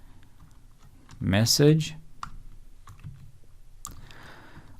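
Soft clicks of a computer keyboard come in short bursts of typing while someone talks, the keystrokes faint beneath his voice.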